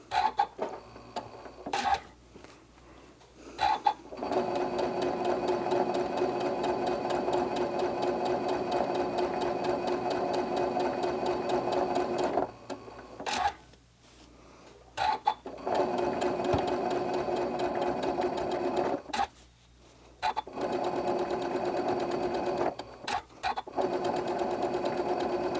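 A sewing machine runs in bursts of rapid mechanical stitching while sewing decorative stitches to outline fabric cat toys, with short quiet pauses between runs and a faint voice now and then.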